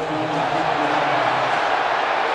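A large stadium crowd roars steadily at a college football game between Georgia and Missouri, a dense, continuous wash of cheering and noise filling the whole stretch without clear breaks.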